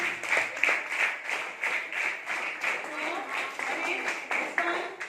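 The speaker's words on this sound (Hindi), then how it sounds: "ताली बजाइए" Classroom applause during a student quiz, with uneven clapping from a group of pupils lasting several seconds, fairly close and mixed with voices.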